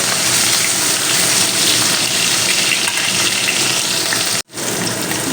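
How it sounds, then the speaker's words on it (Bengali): Fish frying in hot oil in a wok, a loud, dense, steady sizzle close up that drops out briefly near the end, then resumes, no voices. "কড়ার মধ্যে আমি আবারও একটু তেল দিয়েছি দিয়ে আমি মাছগুলো ততক্ষণ দেখতে ছিল দশ মিনিট হয়ে গিয়েছে এবারে আমি ভেজে নেব"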